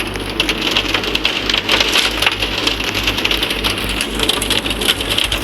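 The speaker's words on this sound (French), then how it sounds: "Il pleut beaucoup là. Il pleut beaucoup trop." Heavy rain pours steadily in the video game Tornado, a dense, even hiss of drops on surfaces that lasts the whole stretch without a break, loud and with no voices.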